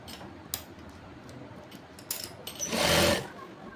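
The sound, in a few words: sewing machine stitching Bermuda shorts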